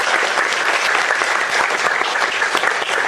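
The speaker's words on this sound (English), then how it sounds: "Thomas, clap it up for Thomas." An audience claps for a newly hired team member being introduced on stage. The applause is loud, dense and continuous, filling the whole moment with no talking.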